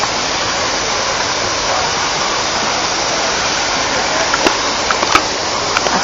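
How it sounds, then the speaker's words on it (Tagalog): Hinulugang Taktak Falls pours with a constant, loud broadband roar of falling water, steady throughout with a few faint clicks near the end. "Ang ganda talaga ng hinulugang Taktak Falls."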